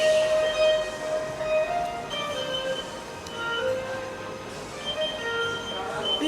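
An MRT metro train in Kuala Lumpur rolls along with a steady rumble and high, drawn-out wheel squeals and tonal whines, heard fairly close with faint background voices.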